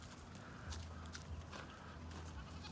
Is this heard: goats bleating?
yes